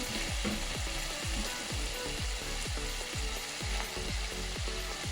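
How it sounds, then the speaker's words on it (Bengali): Shredded cabbage stir-fried in hot oil, a dense continuous sizzle with a quick rhythmic run of spatula scrapes and knocks against the pan, close and fairly loud, no voices. "পাতাকপি কুচিটা দিয়ে তারপরে একটু নাড়লাম।"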